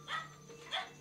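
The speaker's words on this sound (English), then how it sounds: "we can immediately see a dog barking loudly at something off screen" A dog barks twice in quick succession, two short, panicked-sounding barks that sit at moderate distance over a low steady hum.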